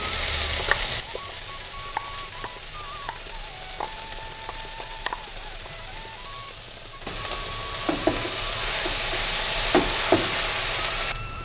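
Steady sizzling of broad bean curry frying with ground paste in a pan, with occasional scraping and clinks of a spoon stirring, growing louder partway through.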